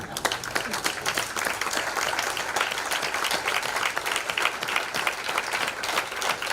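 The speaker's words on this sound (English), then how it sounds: "Keep the applause going." Sustained applause from an audience at an awards ceremony in an auditorium, dense clapping at moderate level that continues evenly without a break.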